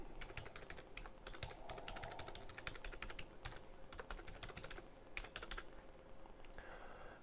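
Rapid, irregular clicking of keys on a computer keyboard as an email address is entered into a fax server application, close and steady for about seven seconds with no voices.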